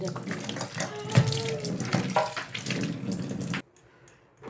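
A tap runs steadily into a sink while a toy car is washed under it, the water splashing and gurgling close by, then cutting off abruptly near the end.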